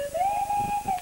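A swanee slide whistle sounding a Clangers-style call, a single sustained tone that swoops up and wavers, close and clear with no voices.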